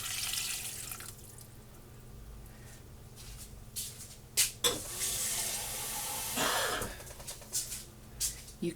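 Liquid from a container of green beans spills and drips into a kitchen sink as the tight lid is worked open, a steady trickle and splash with a few sharp clinks and bumps, no talking.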